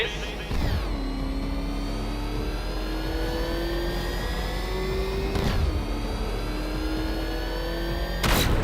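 The Batmobile's engine in Batman Arkham Knight roars and revs steadily, a loud sustained tone that rises slowly in pitch, with a villain's voice talking over it.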